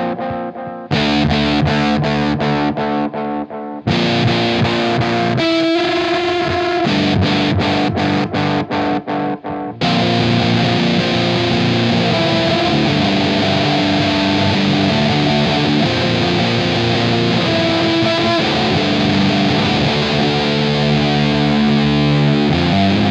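Heavily distorted electric guitar played through a Black Arts Toneworks Destroyer V2 distortion pedal with a space echo, loud and saturated, with a choppy stop-start passage early on before sustained fuzzy chords ring out continuously.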